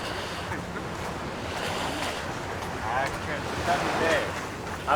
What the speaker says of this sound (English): It is high tide. Normally the ocean wouldn't quite be this close.